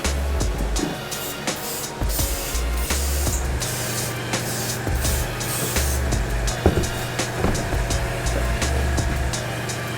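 Gold spray paint hisses steadily onto Nike Air Force 1 sneakers in close, continuous bursts, with faint clicks and handling noises mixed in and no talking.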